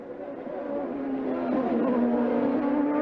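IndyCar race cars roar into a corner, a loud sustained engine drone that swells and holds steady as the pack closes in, with no commentary audible.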